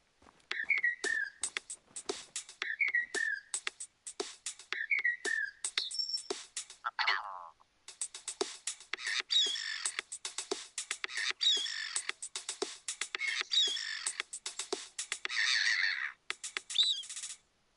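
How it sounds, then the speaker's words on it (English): A short, playful song built from recorded bird calls: rapid chirps and whistles repeat in quick rhythmic phrases, loud and close, with a denser buzzy passage in the second half and no talking. "We recorded the call of some birds and made this."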